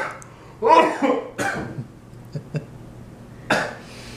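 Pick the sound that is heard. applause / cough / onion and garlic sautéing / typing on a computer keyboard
cough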